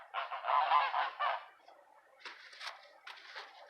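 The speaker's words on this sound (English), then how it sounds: "I've got the geese up in my garden" Geese in a garden honk loudly in a burst of overlapping calls, then go quieter before a few more scattered honks close by.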